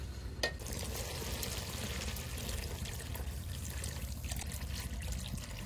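Water is poured into a pan of oily fried spice masala for a fish curry. A constant sizzle and bubbling pour run close and steady throughout, with a single sharp tap near the start.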